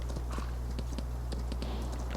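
Hooves of a horse clip-clop in a farming video game, a steady walking rhythm of light knocks over a constant low hum.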